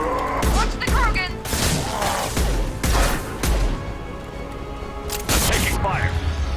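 Gunfire rattles through a Mass Effect 2 firefight in a series of loud, sharp cracks and bursts, close and repeated, with combat voices and shouting mixed in between the shots.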